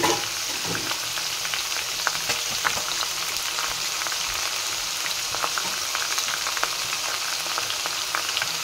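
Ridge gourd and potato pieces frying in oil for a fish curry, a bright crackling sizzle with scattered small pops and occasional stirring taps, steady throughout with no talk.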